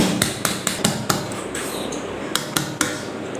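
A cake tin turned over onto a plate and tapped to release a plum cake, giving a series of sharp, close knocks in an uneven rhythm, about eight taps with brief pauses between them.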